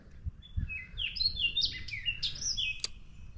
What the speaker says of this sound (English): I'm really enjoying the sound of that bird.